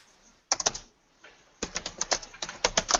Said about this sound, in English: I'm busy typing